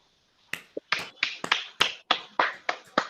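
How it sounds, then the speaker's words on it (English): A short run of about nine crisp, separate handclaps at an evenly spaced, steady pace, close and fairly loud, from a small group at a shloka course class. "Give him a clap."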